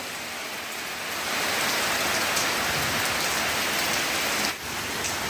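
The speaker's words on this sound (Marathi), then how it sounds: "साडेचार वाजता पावसाला चक्क सुरुवात झालेली आहे कंटिन्युअसली चालू आहे" Continuous rain pouring down, a dense and loud steady hiss of drops hitting surfaces that grows heavier after the first second and holds throughout.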